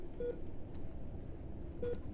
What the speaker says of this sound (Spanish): Escucho un pitido todo el tiempo y no sé.